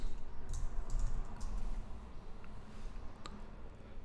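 Someone types a search on a computer keyboard, giving a short run of soft clicking keystrokes over a low steady background hum, with no talking.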